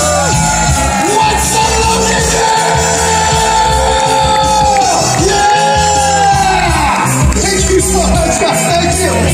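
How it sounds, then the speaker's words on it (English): Comedy show audience cheering and whooping loudly as a comedian is introduced, with yells and shouts layered over sustained musical tones. "let's give a loud round of applause to extremely funny man, Mr. Matt Baker!"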